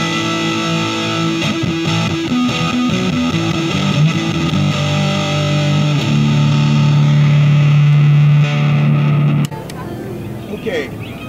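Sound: electric guitar through Mu-FX Boostron 3 high-gain distortion

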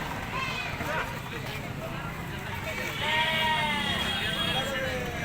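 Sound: goats bleating at market

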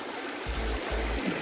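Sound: river water flowing

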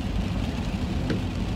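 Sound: rain falling outside

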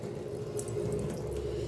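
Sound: water poured into a kitchen sink

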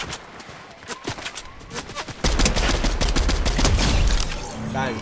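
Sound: MK Alpha assault rifle gunfire in the video game Fortnite

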